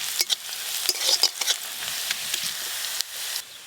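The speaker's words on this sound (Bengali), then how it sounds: "পেঁয়াজ রসুনটা একটু ভাজা ভাজা হয়ে গেলে জিরেটা দেবো" Onion, garlic and cumin fry in a pan close up, a continuous hissing sizzle broken by repeated scraping stirs of a spatula.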